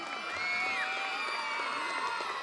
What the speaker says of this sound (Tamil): ஒரு பெரிய கைத்தட்டல் கொடுத்துடலாம் எல்லாரும்